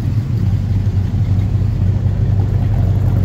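Exhaust of a 1957 Chevy 3100 Stepside pickup truck with a steady, deep low rumble at idle, loud and close, with no voices.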